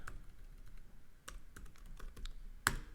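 Close, fairly quiet keystrokes from a computer keyboard as a terminal command is typed, an uneven patter of clicks ending in one sharper key press.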